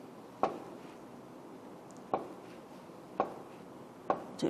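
A knife chops thick pieces of tofu on a cutting board while preparing a Korean tofu and salted-shrimp stew, giving four sharp, separate chops spaced about a second apart over a quiet room.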